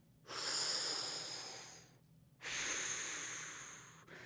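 Deep breaths drawn in during a trombone warm-up stretch, two long, close, airy inhales, each lasting about two seconds with a short pause between.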